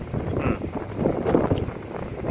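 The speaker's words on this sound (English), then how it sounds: "we have the wind blowing." Wind blows steadily outdoors, a continuous low rumbling roar buffeting the microphone with small gusty swells and no pauses throughout.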